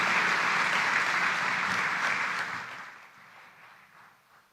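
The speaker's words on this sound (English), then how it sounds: "Another warm clap for His Excellency, our host, Dr. William Samoei Ruto." Delegates at the COMESA heads of state summit at KICC in Nairobi give a large hall's sustained applause that holds strong for a couple of seconds, then gradually fades away to scattered claps.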